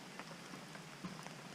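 Light rain patters on and around a log-fed campfire outdoors at a shelter camp, a faint, even hiss of scattered drops with no voices.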